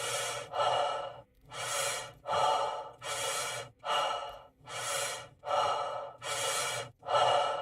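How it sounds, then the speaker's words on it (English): A player character in the video game Star Citizen breathes loudly and heavily, with about nine deep, even breaths in steady succession, each a long airy rush followed by a short pause, close up and alone. "I can barely hear that you're talking over this fucking breathing"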